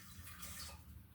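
Water for cooking long grain rice is poured into a pan, a steady, faint splashing pour lasting just over a second, with no talk.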